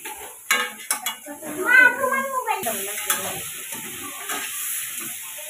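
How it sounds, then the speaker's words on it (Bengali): Egg frying in oil with turmeric at an outdoor picnic, with soft sizzling, a stirring sound and clinks of a metal utensil against the pan, fairly faint, with a little background chatter. "তেলের উপর দিয়ে দিল হলুদ, এখন ডিম ভাজার জন্য ডিম দিয়ে দিয়েছে"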